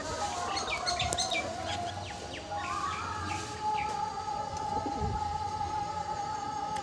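Pigeons in a loft coo and call close by in overlapping bursts, with wing flutters and other bird chirps over a busy background.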